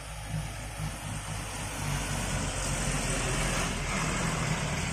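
A fully loaded palm oil truck rumbles along, its heavy diesel engine thrumming low and steady, moderately close and slowly growing louder.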